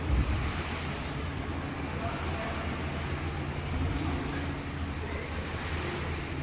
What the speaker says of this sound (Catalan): en aquest aquari es simula el moviment de les onades